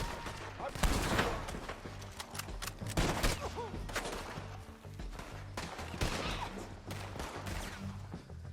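Video game gunfire in Red Dead Redemption 2, with rapid bursts of shots and crackling impacts in a busy firefight, loud and continuous with several dense peaks.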